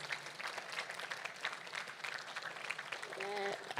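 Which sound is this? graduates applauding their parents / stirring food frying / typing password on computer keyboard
graduates applauding their parents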